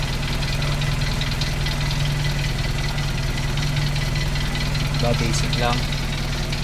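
A car engine idles steadily after a timing belt change, a cold start with noisy valves giving a constant mechanical chatter and low rumble throughout, while someone talks over it.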